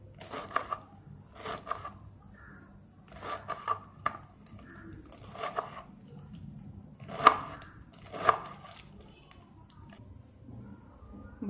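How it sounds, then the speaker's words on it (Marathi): Chakvat greens are finely chopped with a knife on a board in short, distinct bursts of cutting strokes separated by pauses, fairly quiet and close, with no talking. "बारीक कापून घ्यायचं आहे"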